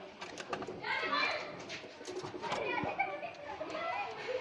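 A newly paired male and female pigeon in a home loft cooing, soft warbling coos close by, mixed with background children's voices and talk.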